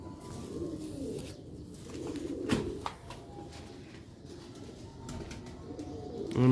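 Sialkoti pigeons cooing softly in a low, steady murmur, with scattered wing flutters and small knocks nearby and a faint background hum.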